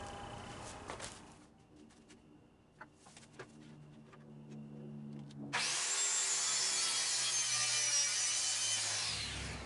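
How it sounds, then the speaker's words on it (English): A DeWalt 7790 radial arm saw cuts plywood to length: a few light taps and knocks, then the saw spins up into a loud, steady whining roar that holds to the end. "I've cut the plywood to length."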